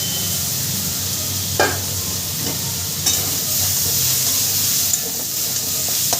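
Pre-fried vegetables go into hot spice paste in a pan, giving a steady loud sizzle with a few sharp stirring scrapes and clinks scattered over it, and no voices.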